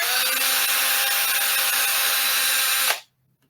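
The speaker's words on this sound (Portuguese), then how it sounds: "olha essa furadeira aqui, eu vou ligar ela para vocês ouvirem um som" A power drill whines steadily at high speed for about three seconds, then stops abruptly and leaves near silence.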